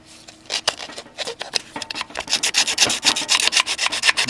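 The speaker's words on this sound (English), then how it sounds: "and I'm able to sand" Coarse 40-grit sandpaper taped to a stick rasps back and forth in a 1966 Ford F250 engine bay, close-up, in quick rhythmic strokes that grow faster and louder.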